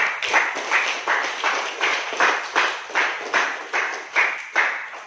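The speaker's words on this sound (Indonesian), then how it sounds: "kita berikan aplaus untuk semua kelompok" Rhythmic group clapping in a classroom for all the student groups, about a dozen even, steady claps in unison, fairly close and loud, with no talk over them.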